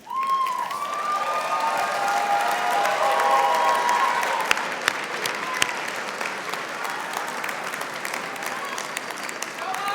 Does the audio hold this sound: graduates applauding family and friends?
yes